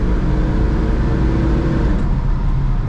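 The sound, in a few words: Emberglo 66 GT car accelerating and downshifting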